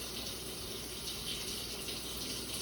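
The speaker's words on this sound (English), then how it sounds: "I'll usually typically just turn the sink on a little bit." Hot water runs steadily from a kitchen sink tap as a pan of cooked pepper steak with onions and green pepper is drained, a continuous broadband rush and splash with no talk over it.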